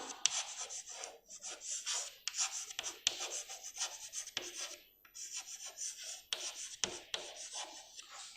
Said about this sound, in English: I am writing it clearly.